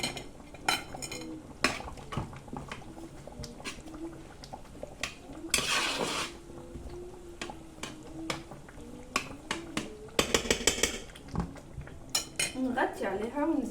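Tunisian nwasser pasta with chicken is mixed in a pot, the utensil making repeated sharp clinks and scrapes against the metal in an irregular rhythm, close and fairly loud, with a brief rushing burst midway.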